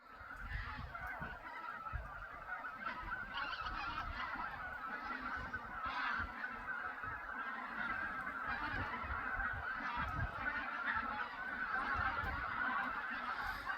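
A large flock of geese honks continuously near the Seda bog nature trail in Latvia in late March, a dense overlapping chorus that holds steady throughout.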